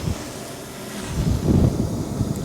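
Gusting wind of about 18 km/h buffets the microphone outdoors during a V-Coptor drone flight test, a continuous low rumble that swells midway through the short stretch.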